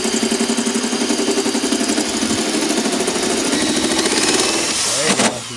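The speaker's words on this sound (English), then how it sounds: "Run the drill fast, but push through real slow." A power drill runs fast as it bores slowly through a metal van roof during a solar panel installation, giving a loud, steady grinding whine that cuts off abruptly near the end.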